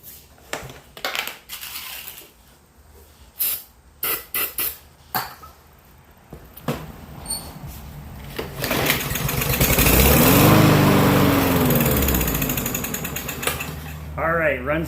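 A Briggs & Stratton 550E series lawnmower engine, dosed with starting fluid, sputters and catches after a few rattling pulls, revs up loudly for several seconds, then dies away, with a nearby voice speaking throughout.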